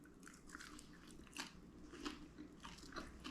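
Someone bites into a homemade barbecue chicken wing, sending out a few close, crisp crunches and chewing sounds in quiet surroundings with no talking.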